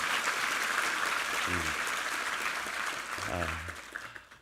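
A church congregation at a Sunday worship service applauds the choir with sustained, dense clapping that fades toward the end, while someone speaks briefly over it.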